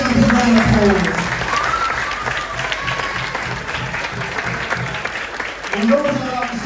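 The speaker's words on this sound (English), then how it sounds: "Let's have a big round of applause." An audience applauds after a school pantomime performance of Aladdin, with full clapping under a speaking voice that carries on over it, the clapping briefly swelling again near the end.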